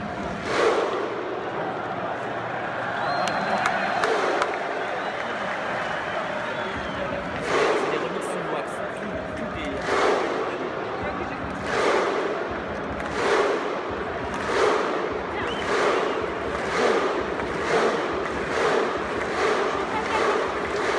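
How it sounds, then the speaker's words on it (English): Icelandic football fans in a stadium perform the Viking thunder clap chant: a huge crowd strikes single unison claps at slow, regular intervals, each followed by a deep collective shout, over steady crowd murmur. "The Viking clap, or the thunder clap, was a chant adopted by the Icelandic fans to shake the stadium"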